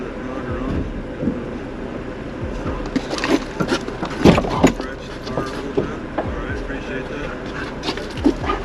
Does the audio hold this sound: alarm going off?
no